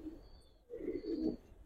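Young Giribaz pigeons from Old Dhaka, silver-colored birds, give soft low cooing in a short close burst that swells after a brief pause, with no talking.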